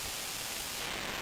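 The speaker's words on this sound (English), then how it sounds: "it just sounds like white noise" Steady hiss of white noise from a synthesizer module, flat and unchanging, with a faint high whine creeping in near the end.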